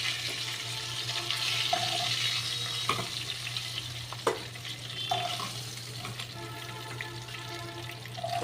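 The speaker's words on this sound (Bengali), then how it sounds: "দেখো বন্ধুরা, মাছটা ভাজা হয়ে গেছে।" Pangas fish frying in oil in a pan, a steady near sizzle with a low constant hum and occasional spatula scrapes and clinks, no voices.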